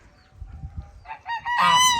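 On a mini farm, a rooster and geese call out: low scuffling and murmurs give way to rising honks and a loud crowing cry at the end, close and clear.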